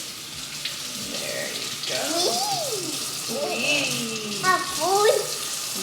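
Water runs steadily from a kitchen tap while something is rinsed, a continuous hiss beneath a child's and an adult's talking.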